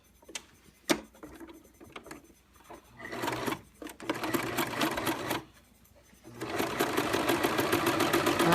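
Sewing machine stitching an apron seam in a home-school co-op sewing class, with a few handling clicks, then several bursts of close, steady mechanical whirring that stop and restart.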